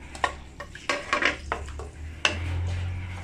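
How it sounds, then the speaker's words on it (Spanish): Utensils clink and scrape against a pan a few times before half a scraped onion drops into hot oil, followed by a steady low sizzle as it fries for a Guatemalan fava bean sauce. "Lo vamos a dejar freír un ratito."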